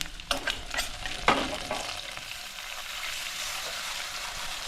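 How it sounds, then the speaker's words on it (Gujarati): Curry leaves and sesame seeds hit hot oil for a Kathiyawadi kadhi, a sudden crackling burst of sizzle with a few spoon clinks, then a steady hiss of frying close by, no talking. "પત્તા નાખી દઈશું ત્યારબાદ આ તલ નાખી દઈશું"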